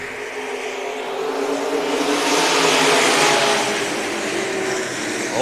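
IMCA SportMod race cars roar off together at a green flag start at West Liberty Raceway, a dense, rising engine wash that swells to a peak mid-clip then eases slightly, heard from a distance with no talk.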